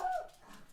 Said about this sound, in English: you riled up my dog